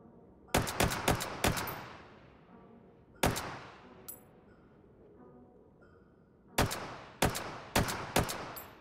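Semi-automatic gunfire in the VR shooter Hot Dogs, Horseshoes & Hand Grenades: loud, sharp single shots in quick clusters of three or four, then a lone shot and a pause, each crack ringing out briefly with no one talking.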